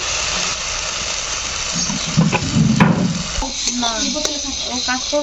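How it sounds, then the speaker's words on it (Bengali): Chili powder, turmeric and spices sizzle and fry in a pan for a chicken curry with turnip, a steady hiss with stirring scrapes in the middle and a voice speaking briefly toward the end. "মশলাটা ভালোভাবে কষিয়ে নিয়েছি।"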